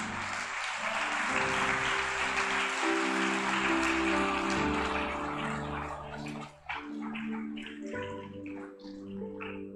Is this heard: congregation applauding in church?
yes